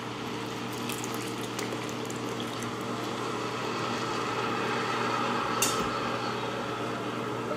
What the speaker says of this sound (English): we're going to add our liquid one time.